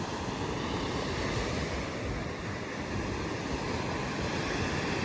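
Strong ocean waves at Jumeirah Open Beach in Dubai roar in a steady, loud, unbroken wash of surf mixed with wind noise, with no voices.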